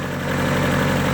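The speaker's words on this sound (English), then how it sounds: "so the camshafts do tick a little bit" Mazda Miata engine idling with light camshaft lifter ticking, a steady close mechanical hum with a faint fast tick running through it.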